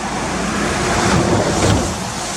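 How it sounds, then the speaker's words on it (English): A stream flowing under a road from the Cotterforce waterfall area, a steady broadband rush of running water with some wind buffeting, fairly loud and without talk. "So this water coming down underneath the road is what's coming from COTTERFORCE waterfall area."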